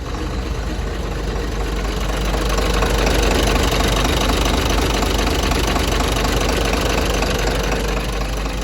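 A Komatsu FD135T-6 13-ton diesel forklift with automatic transmission runs steadily at idle nearby, a loud, continuous engine rumble with a knocking texture and no talk over it.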